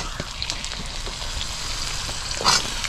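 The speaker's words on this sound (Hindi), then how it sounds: "आलू को थोड़ी देर तक पहले भून लेते हैं।" Cut potatoes fry in a pan with an onion tadka, crackling and sizzling steadily up close, with scattered pops and a brief scrape of stirring near the end and no talk.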